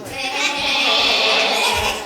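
Children's voices imitate goat bleats together, a loud, wavering chorus of high bleating sounds that swells and holds.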